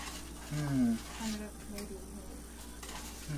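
A no-bake cookie mixture melting and being stirred in a medium pan, a soft scraping and bubbling sizzle under a voice.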